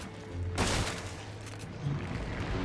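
Gunfire in the Resident Evil 7 video game, a sharp shot followed by another, set against low game ambience and a steady hum.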